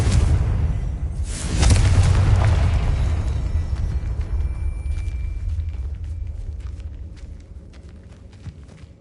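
Confringo fire-blast spell explosion in Hogwarts Legacy, a loud booming burst near the start with deep rumble that slowly decays, followed by scattered small crackles and debris clicks.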